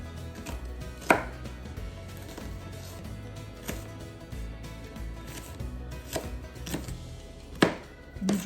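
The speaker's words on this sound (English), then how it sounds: "turn the onion, and just slice it again" A knife slicing an onion on a cutting board for a tomato, cucumber and onion salad, producing steady soft chopping taps with a few louder knocks against the board, close and without talk.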